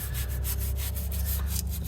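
A brush scrubs a car bracket coated in Harbor Freight degreaser, making a steady close rhythmic scratching with repeated back-and-forth strokes over a low background hum.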